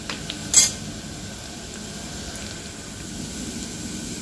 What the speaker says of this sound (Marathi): आता इथे आपला कांदा छान परतून घ्यायचा आहे.